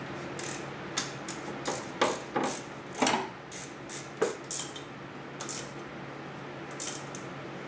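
A ratchet clicks in quick bursts of short rapid strokes, close and crisp, pausing between runs while tightening the 14 mm front top bolt during a Nissan 240SX SR20DET engine swap, with no talk.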